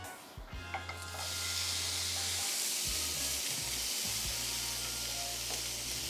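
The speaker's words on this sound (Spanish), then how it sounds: "Volvemos al fuego y es el turno de nuestro chasiú." Char siu pork hitting a hot pan for chaufa fried rice, a loud steady sizzle that starts abruptly and holds on without a break, close and alone with no talk.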